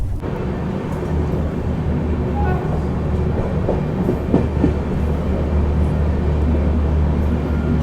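Delhi Mumbai AC special train running along the rails, a steady low rumble with faint rhythmic clacks of wheels over track joints, heard continuously from on board.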